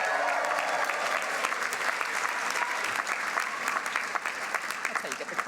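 A crowd at a university graduation ceremony breaks into sustained applause, dense overlapping clapping that fills the hall and stays loud throughout.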